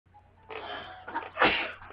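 A single close sneeze with a short indrawn breath before the forceful burst, then a quick fade.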